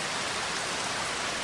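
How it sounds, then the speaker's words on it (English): Steady rain falls on a rainforest treehouse at night, a dense and even hiss without breaks, with no voices over it. "The rain continues to fall,"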